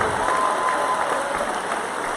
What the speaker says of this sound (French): Allez, on les applaudit s'il vous plaît